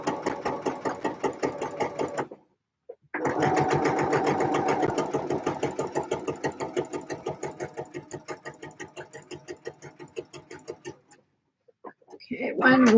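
A sewing machine stitches a seam on a coat in close, loud runs of fast even needle clatter, stopping briefly twice before starting again, with a voice coming in near the end.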